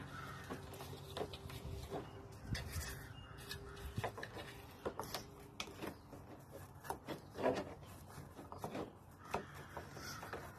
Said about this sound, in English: I'm also gonna wet my brush and just scrub inside